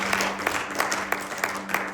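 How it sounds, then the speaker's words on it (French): A church congregation at a prayer gathering claps for itself, giving brief, sparse applause with a few distinct hand claps over a steady low hum. "Let's clap for ourselves."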